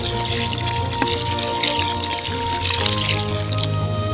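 Water poured into a cauldron of Uzbek pilaf during street cooking, a steady splashing pour over the low bubbling simmer and background bustle, fairly close and continuous throughout.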